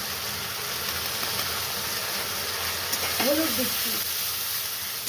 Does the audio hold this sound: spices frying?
yes